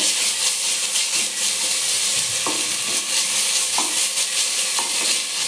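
Ginger paste frying in oil for plain biryani, a steady dense sizzle with stirring clinks and scrapes throughout, close and fairly loud, no talking.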